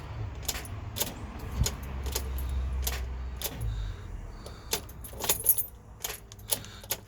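Iveco Daily van starter motor failing after a dead battery, giving repeated sharp, close clicks without cranking, mixed with keys jangling in the ignition and a brief low whirr early on.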